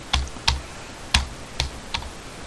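Keys tapped on a computer keyboard while entering a call sign into ham radio logging software, five separate close clicks spaced unevenly over a couple of seconds in a quiet room.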